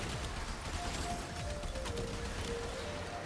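Acceltra Prime missile launcher fires repeatedly in Warframe, a steady stream of muffled launches and distant blasts layered over constant game noise and a faint tonal hum.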